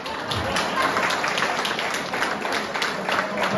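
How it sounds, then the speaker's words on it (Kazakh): An audience at a Kazakh bride's farewell wedding celebration applauds in a steady, dense patter of many hands, fairly close and sustained throughout. "Шапалақ қылды"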